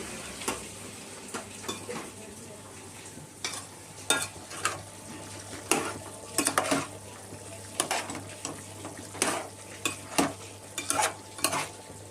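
Chicken curry with turmeric is stirred in a pan: a low sizzle runs beneath repeated scraping and clinking spoon strokes that come in irregular bursts, close by and without speech.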